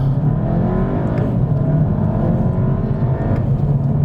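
A VW Golf GTI Mk7.5 pulls away hard in first gear, its engine droning loud and steady from inside the cabin with a rising rev note and some road roar.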